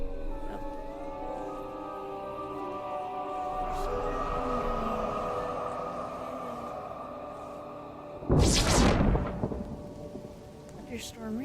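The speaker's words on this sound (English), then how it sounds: "Thunderstorm rages." Thunderstorm in the video game Mind Over Magic: steady rain and a low rumble run under faint game tones, then a single loud, close thunder crack bursts out near the end before settling back into the rain.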